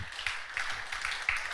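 A small audience claps for Mr. Wisdom in a speaking event, light scattered hand claps at a modest, uneven pace, fairly faint and with no talking over them.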